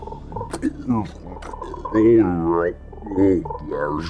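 A voice imitates a giant toad croaking, with drawn-out, warbling guttural croaks broken up by clicks and short pauses, loud and close.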